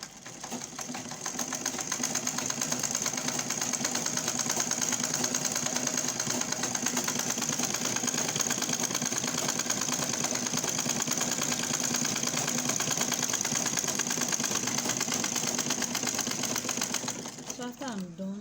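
A sewing machine runs a straight gathering stitch along the bottom edge of a bishop sleeve, a loud, even, rapid whir that holds steady for nearly the whole stretch before easing off at the end.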